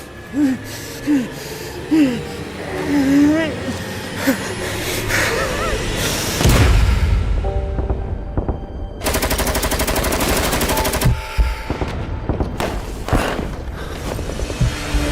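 Bursts of automatic gunfire from the Arena Breakout shooter, loud and dense, with mechanical clatter and a voice gasping and speaking over parts of the clip.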